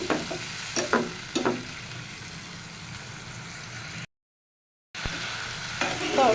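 Vegetable curry with stalks being stir-fried in a pan with a little water, a constant close sizzle with several sharp scraping stir strokes near the start, a brief gap of silence, then more sizzling and stirring.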